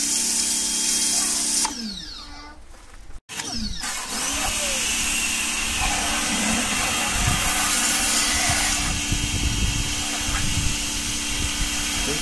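A Zubr M100 pressure washer for car cleaning runs steadily with a broadband spray hiss and motor drone, briefly interrupted as settings are switched, then continuing loud and close.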